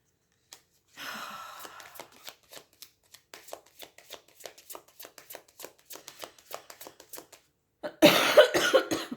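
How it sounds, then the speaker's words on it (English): A person coughs in a burst of harsh, loud bursts near the end, after a stretch of quiet tapping and rustling sounds; no speech. "Excuse me for coughing."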